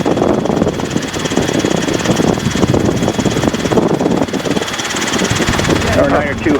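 Robinson R22 helicopter on a training flight, its engine and rotor droning steadily and loudly throughout, heard from inside the cabin under intermittent radio chatter and voices.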